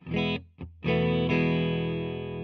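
Clean electric guitar notes ring out through a Fender Deluxe Reverb amplifier, a couple of short strums followed by a long sustained chord that slowly fades.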